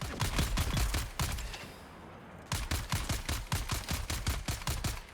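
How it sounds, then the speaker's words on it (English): Dense bursts of rapid gunfire from a Dune: Awakening firefight, loud sharp cracks in fast volleys with a brief lull in the middle before the shooting resumes just as intensely. "Firing in every direction."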